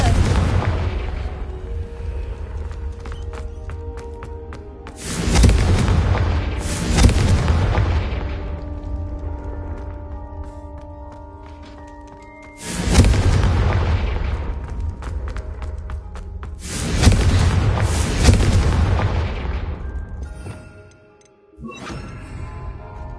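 Repeated blasting spell explosions from the Hogwarts Legacy video game, four loud booming bursts spaced a few seconds apart over a continuous ambient music bed, with no talking.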